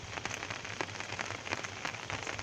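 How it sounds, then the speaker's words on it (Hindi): Heavy rain pours down steadily in a village, a dense, even hiss of drops striking surfaces close by, with no voices over it. "ज़बरदस्त बारिश हो रही है।"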